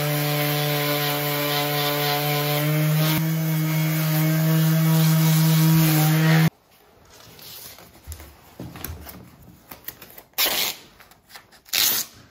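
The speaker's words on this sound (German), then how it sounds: "Deswegen schleife ich jetzt hier noch einmal so lang." An electric sander works over 2K lacquer paint in an old house's bathroom renovation, giving a loud steady humming whine that stops abruptly partway, followed by quieter scraping and knocking handling sounds.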